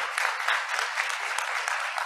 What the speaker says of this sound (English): And please give a round of applause to once again to our speakers.